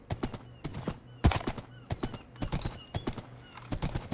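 A horse's hooves clip-clop in Minecraft, a quick steady run of crisp, evenly spaced hoof clicks at close range, continuing throughout with no talk over them.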